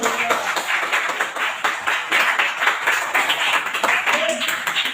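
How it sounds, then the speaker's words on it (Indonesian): A group in a classroom setting claps hands in steady, fairly loud applause lasting several seconds, with scattered voices underneath. "Kasih tepuk tangan."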